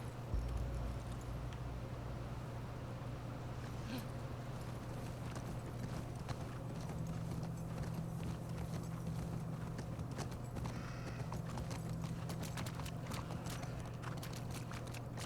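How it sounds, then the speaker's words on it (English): Horse hooves clip-clopping steadily in a video game, a continuous close rhythmic patter over a low ambient hum with no talking. "Come here, horsey."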